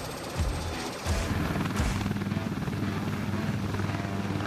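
A UH-1Y Huey light attack helicopter flies close by during confined area landing drills, its rotor producing a loud, continuous chopping thump with a broad rushing roar.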